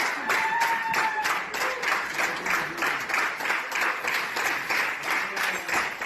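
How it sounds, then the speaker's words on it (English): Crowd at a deathmatch wrestling show applauding in rhythmic, pulsing waves of clapping, with a few shouts rising briefly above the steady applause. "This crowd is cheering them on."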